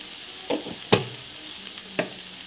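A spoon stirs spice powders into a dish in a pan, giving three short scraping clinks over a soft background sizzle, with no talking.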